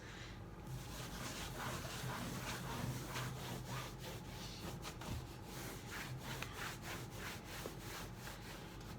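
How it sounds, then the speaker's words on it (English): Steady scratchy rubbing as white wax is worked over a painted, distressed wooden trunk, a continuous close-up friction sound with repeated strokes and no talking. "I'm just going to quickly go over the whole thing with this white wax"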